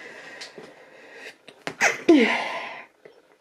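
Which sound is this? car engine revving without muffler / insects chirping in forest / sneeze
sneeze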